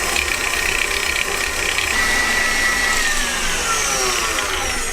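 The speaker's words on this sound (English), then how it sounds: "add the sugar and then the butter, and start whisking this until it's nice and creamy" Electric whisk creaming sugar and butter in a mixing bowl, a loud, steady motor whir with a gritty scraping texture and shifting pitch that runs without a break.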